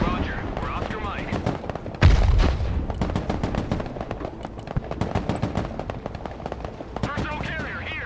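Heavy gunfire in a modern battle from the strategy game Broken Arrow: a sharp blast, then dense rapid bursts and scattered shots, loud and continuous, with shouted radio voices over the din.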